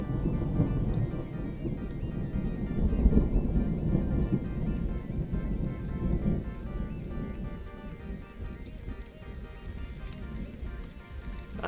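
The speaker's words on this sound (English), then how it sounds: "Wow, that was like 15 seconds of thunder." Long, low rumbling thunder rolls on for many seconds during a storm over a scrapyard full of old cars, heavy at first and slowly easing, with no voices.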